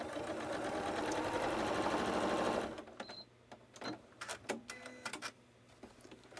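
A sewing machine runs fast, stitching a seam on a quilted coat mock-up, a loud whirring run of about two and a half seconds, then a pause with a few faint clicks and small handling noises.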